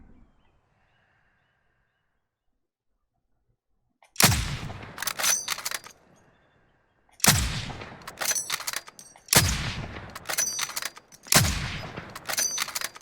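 Gunfire in the video game Call of Duty Warzone, loud bursts of rapid shots in four separate volleys after a quiet opening, each sharp crack followed by a trailing echo.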